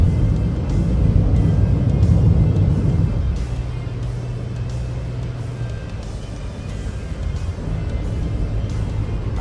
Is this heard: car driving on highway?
yes